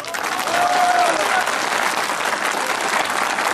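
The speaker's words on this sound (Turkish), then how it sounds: "Onları bir alkışlayalım" Dense, loud applause from a large crowd, continuous and steady throughout.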